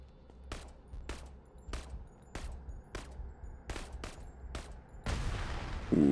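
Gunfire in the video game Krankenheit: about ten sharp, evenly spaced shots over low rumble, then a loud sustained blast of explosion noise at the end.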